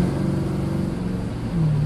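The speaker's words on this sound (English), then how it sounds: "I don't know if you can hear that exhaust or not" Custom 1965 Cadillac with a custom-built MagnaFlow exhaust revving nearby, a steady deep rumble that swells louder near the end with a rising engine note.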